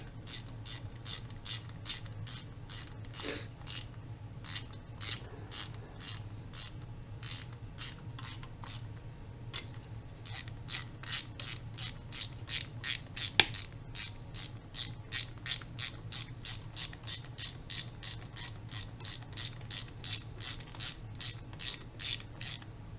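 Rapid ratchet wrench clicks tighten an oil pump bolt on a 1986 Mustang 5.0 engine, steady bursts of close, crisp clicking repeating through the whole stretch over a low background hum, with no talking.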